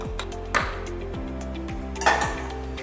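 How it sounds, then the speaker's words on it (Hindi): A spoon stirs ashwagandha powder into a glass of milk, giving two bright metallic clinks against the glass over a low steady hum, close and without any talking. "और पीने से पहले इसमें हम ऐड करेंगे 1 चम्मच अश्वगंधा पाउडर। इसको अच्छे से मिक्स कर लेंगे"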